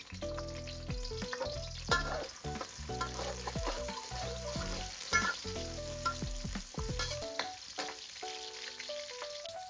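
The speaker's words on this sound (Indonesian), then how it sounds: "Sekarang saya mau tumis terlebih dahulu bawang merahnya." Shallots frying in hot oil in a pan, a continuous close sizzle and crackle with occasional stirring scrapes, moderately loud and unbroken by speech.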